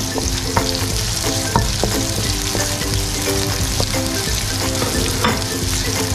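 Onion sautés in hot oil with garlic for a tofu in garlic oyster sauce dish, a loud, close, constant sizzle broken by regular stirring scrapes.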